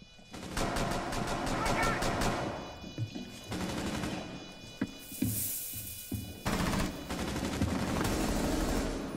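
Rapid automatic gunfire in a Rainbow Six Siege match comes as loud staccato bursts with brief gaps and scattered single shots. A player talks over the shooting.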